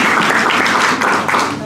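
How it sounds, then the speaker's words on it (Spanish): Congregation at a church Bible study breaks into applause, a dense, steady wash of clapping that fills the whole moment and tapers slightly at the end. "Régale un aplauso, Señor."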